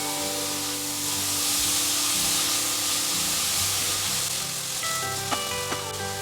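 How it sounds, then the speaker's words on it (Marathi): Chopped coriander frying on a low flame in a pan gives off a steady, close, even sizzle and hiss with no pauses, and a few faint tonal sounds in the background near the end. "ही कोथिंबीर छान अशी फ्राय करून घेऊयात लो फ्लेमवरतीच छान अशी फ्राय करून घ्यायची"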